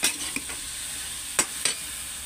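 Food is stirred while frying in a pan as gati and potol cook: a steady sizzle runs throughout, broken by a few scraping stirs and light clinks of the utensil against the pan at close range.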